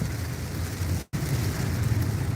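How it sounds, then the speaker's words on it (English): Steady rain falls near a boat dock, a constant hissing wash with a low rumble beneath, briefly cut out for a split second midway. "here's the rain you wanted"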